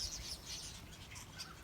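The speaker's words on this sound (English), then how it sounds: "lots and lots of starlings" A flock of starlings gives a faint, dense wash of overlapping chirps and calls, heard from a distance with a low rumble underneath and no talk.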